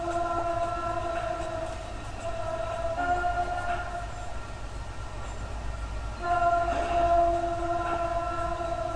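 A train speeds past in Sunnyvale, California, a steady broad rumble and rail rattle with tonal hum bands, swelling louder toward the end as it comes close.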